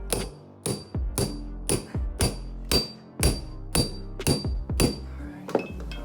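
Hammer striking staples while installing a carpet runner on a staircase, about a dozen sharp, close, evenly spaced blows with no talking.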